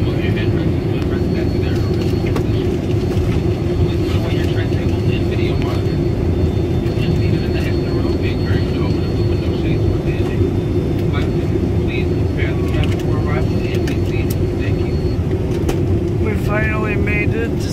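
Steady, loud low roar of a Boeing 737 MAX 9 cabin in flight on a Newark to San Diego route, continuous engine and airflow noise throughout with faint clinks and voices over it.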